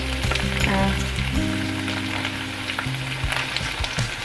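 Two kinds of red pepper and beans hit a hot pan for Thai basil fried rice with chicken, giving a loud, dense sizzle with clattering stirs and bumps throughout.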